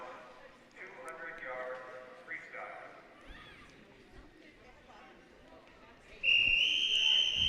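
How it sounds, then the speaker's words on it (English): A starter's whistle blown before a girls' swimming race at an invitational meet in Evanston, a sharp, loud high tone entering near the end over pool-deck noise and an announcer's voice. "As the whistle is blown and they address the blocks"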